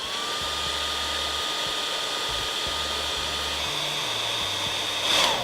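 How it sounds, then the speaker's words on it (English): A heat gun and hair dryer blowing hot air onto polyethylene plastic surfaces during an auto repair, a loud steady close whoosh with a faint whine running throughout and no talking. "We will take the heat gun and hair dryer and warm both surfaces for 10 to 15 seconds."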